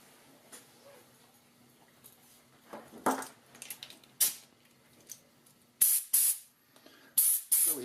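Bursts of air hiss from a homemade tire inflator built with a blow hose and Schrader valve fitting, several short sharp blasts growing louder toward the end after quieter rustling and handling sounds.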